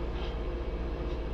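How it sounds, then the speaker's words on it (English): Train from Oro Grande passing, a steady low rumble with faint rhythmic clacking, constant and moderately loud with no talk. "That was the train from Oro Grande."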